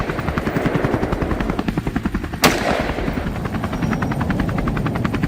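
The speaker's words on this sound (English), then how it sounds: "The rest of the herd scattered in panic at the sound of gunfire" Gunfire rings out from a helicopter hunting wild hogs over farm fields: the rotor's loud, rhythmic chop dominates throughout, and a single sharp shot cracks out in the middle.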